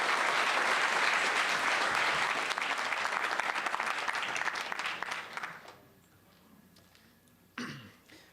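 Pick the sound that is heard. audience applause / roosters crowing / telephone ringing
audience applause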